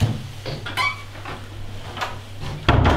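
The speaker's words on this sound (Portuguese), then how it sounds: "Fecha a porta." A door is pulled shut in a short film, with some shuffling and light knocks before a solid thud near the end, heard close in a quiet room.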